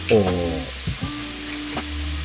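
Beef sizzles and crackles in a hot iron pan, a brief clatter near the start, then a steady frying hiss.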